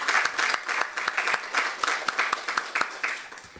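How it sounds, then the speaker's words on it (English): At a media conference, a modest audience gives a round of applause, individual claps distinct and fairly close, the rhythm loose and even throughout. "let's give yourself applause"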